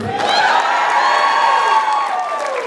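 An audience at a cosplay contest during the OKiCON 2022 convention cheers and whoops loudly, a steady wall of shouting and screaming voices that holds for the whole moment.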